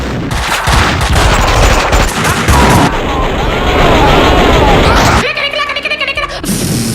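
Dense rapid machine-gun fire in a video game, loud continuous bursts that break into separate choppy shots near the end, with some voices mixed in.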